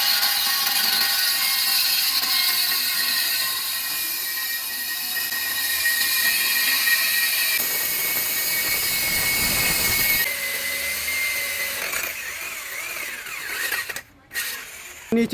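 Drill boring a hole high up through a brick wall while a Daikin 3-star 1.5-ton inverter split AC is being installed, a loud continuous whirring grind with changing pitch, a short cut near the end.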